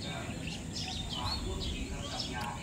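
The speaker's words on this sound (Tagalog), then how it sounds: "Every morning, ganyan maririnig mo. Huni ng mga ibon, nakaka-relax." Morning birds chirp and tweet in short, bright, scattered calls over a steady background hum, fairly close and moderately loud.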